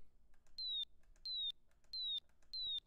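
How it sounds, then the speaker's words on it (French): A micro:bit produces a synthesized bird chirp as four evenly spaced electronic tweets, each a clean, slightly falling whistle-like tone, quiet and alone with no talking. "Tiens, j'ai fait mon petit son d'oiseau."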